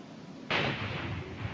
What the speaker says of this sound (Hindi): धमाके की आवाज भी आपको सुनाई दे रही होगी।